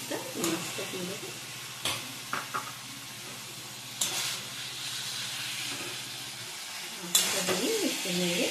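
Fried katla fish going into a potato and coriander-leaf curry in a pan, with close scraping stirs at intervals over a continuous sizzle and steamy hiss, and brief voice sounds near the end.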